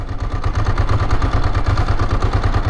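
A Ducati Monster motorcycle engine runs loud and close, a steady throbbing low-pitched rumble with rapid, even pulses and mechanical clatter, with no talking.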